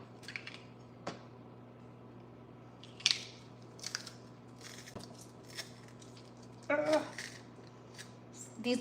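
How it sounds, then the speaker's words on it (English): Garlic cloves being crushed in a home kitchen give a few faint, scattered crunches and squishes over a quiet background, with a louder crackling burst near the end. "These garlic cloves are not easy to crush."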